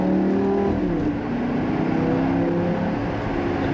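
A Lamborghini LP560-4 Spyder engine drones steadily while driving along an open road, a loud, sustained close-up hum with slight shifts in pitch as it cruises.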